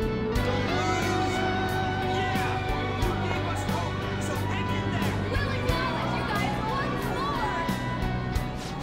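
A crowd of voices in the Persona 5 video game rises in a dense, steady babble of cheering, layered over constant game music for the full stretch.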